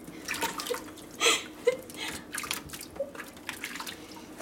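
Water splashes and drips as it is poured over a puppy in a bathtub, a few brief close pours and trickles over a quiet room.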